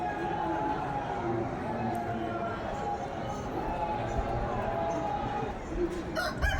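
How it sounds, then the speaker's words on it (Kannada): A rooster crows at a temple on the Sabarimala Ayyappa pilgrimage, against a busy outdoor background with steady crowd noise and voices talking throughout. "ನೋಡಿ ಎಷ್ಟು ಸಖತ್ತಾಗಿದೆ ಅದು ಕೋಳಿ"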